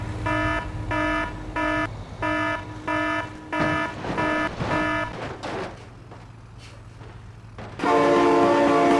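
Train in the BeamNG driving game sounding a series of loud, evenly spaced horn blasts over rumbling wheels, then a fading pause before another long sustained horn blast, with no talk.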